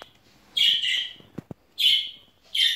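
A small pet bird just brought home chirps in three bright bursts of rapid twittering, close and clear, separated by short quiet gaps with faint handling clicks between.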